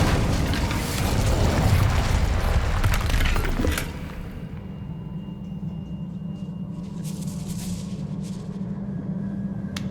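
An Incendio fire spell cast in Hogwarts Legacy bursts with a loud, dense whooshing roar for about four seconds, then drops to a lower steady rumble and crackle in the cavern ambience.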